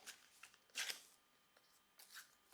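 Paper slips being torn or cut for a prize draw: three quick papery rustling bursts with quiet gaps between, close and fairly soft, no talk.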